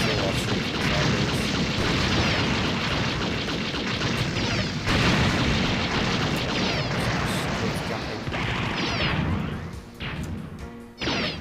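Continuous loud rifle gunfire with crashing impacts and bursts fills a close-range fight in the online mech game UCGO, dense and unbroken throughout.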